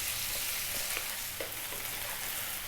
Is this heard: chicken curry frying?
yes